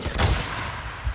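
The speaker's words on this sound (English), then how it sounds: "nice explosion" Booming explosion in the video game Days Gone, a heavy low rumble with sharp cracking bursts like rapid gunfire, loud and close, with a second thud near the end.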